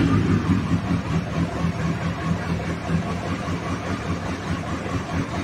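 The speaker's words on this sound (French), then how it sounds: "Le ralenti est très très bas sur celle-là." A used motorcycle idles very low on manual choke, a steady, close, low rumbling drone that holds an even pulse throughout with no speech.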